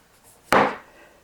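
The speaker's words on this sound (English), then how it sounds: "So now then I'm going to chop up my zucchini." A knife chops zucchini on a wooden board, striking once up close with a sharp crack and a brief ringing tail.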